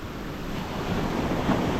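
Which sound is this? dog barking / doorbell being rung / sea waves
sea waves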